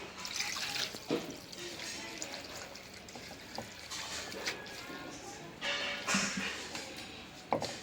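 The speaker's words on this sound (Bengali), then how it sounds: "এখন একটু পানি দিয়ে দিই।" Water poured into a pan of mixed green chillies, onion and mustard oil for a chochchori, a broad splashing pour with drips and trickles over several seconds, close by, with faint background voices.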